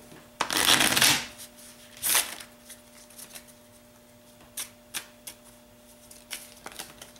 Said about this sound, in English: Go ahead and shuffle your deck like, you know, go like that.